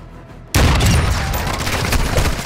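Dense, loud volley of rapid gunfire from a Call of Duty: Modern Warfare II multiplayer match bursts in after a brief quiet moment, sustained crackling shots continuing without pause.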